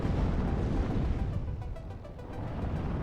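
Gazelle helicopter in WARNO launching anti-tank guided missiles, heard as a continuous low rumble of explosions and missile fire that dips briefly midway before swelling again, dense and steady throughout.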